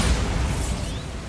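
A Bombarda explosion spell goes off in Hogwarts Legacy, a single loud, rumbling blast with heavy low-end boom that holds steady and slowly fades over a second and a half, with no voices.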